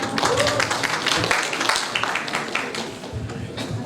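An audience claps for a wildcard contestant introduced at a singing competition, a moderate, uneven patter of applause lasting a few seconds with some voices mixed in.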